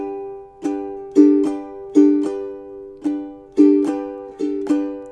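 Acoustic guitar strummed in a steady rhythmic pattern while the middle finger rocks on and off a string, so the chord alternates between two voicings; loud, close strokes with no talk.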